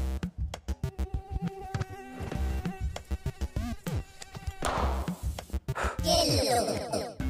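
Insect-like buzzing from a mosquito in a winter school-life skit, whining in uneven bursts with sharp claps and knocks cutting through, fairly close and loud.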